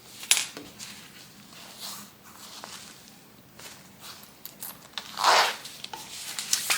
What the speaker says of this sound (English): So open up your zippers.